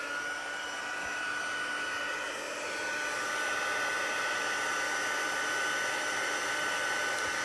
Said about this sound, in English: I'm going to use the heat tool on the level 2 setting to heat the image and emboss it